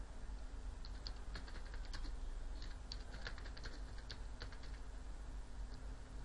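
Quiet, irregular clicks of a computer keyboard as an address is typed into a business card design, scattered keystrokes in short bursts with no talking.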